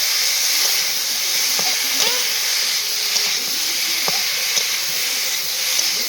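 Broth poured into a pan of softened potatoes and cauliflower for a village-style bata fish curry, giving a steady close hiss and sizzle with a few faint clinks, no talking.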